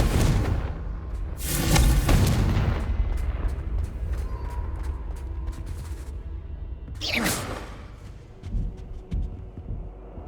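A Confringo fire spell blasts in Hogwarts Legacy: a heavy booming explosion swells up early, rumbles and decays, then a second sharper burst and several thudding impacts follow amid game effects.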